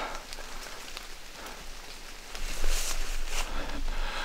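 Rain falls outdoors in a meadow, a dense, even hiss of drops that swells louder about halfway through, with no talking.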